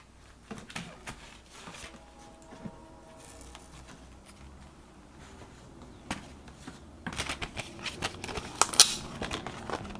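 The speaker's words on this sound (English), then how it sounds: "now I'm going to cut the hearts" Paper hearts being cut with Spellbinders dies give close, soft crinkling and patter with scattered crisp clicks and rustles, growing busier and sharper toward the end.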